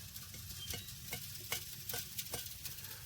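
A fired wild clay ceramic pot, pit-fired, is tapped again and again, giving a series of short, sharp, evenly spaced clicks at close range over a faint background hiss.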